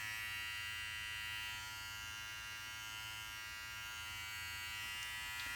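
A cheap electric body trimmer runs with a thin, steady high-pitched buzz, close and fairly quiet, holding an even drone throughout with a slight drop in level early on.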